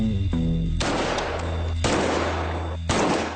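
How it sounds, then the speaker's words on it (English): Rifle fired from the hip, three loud sharp reports spaced about a second apart, each followed by a dense noisy decay, after a brief low electronic tone at the start. "and now I'm firing from the hip"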